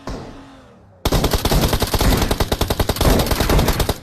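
Loud, rapid automatic gunfire in Battlegrounds Mobile India erupts after a second of quiet, continuing in a fast, steady stream of shots to the end.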